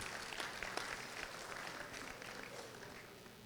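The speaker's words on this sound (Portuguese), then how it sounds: "Por favor, aplauda." Audience applause at a retirees' and pensioners' gathering with a lecture: a faint, steady wash of many hands clapping that slowly tapers over a few seconds, heard from a distance without other sounds on top.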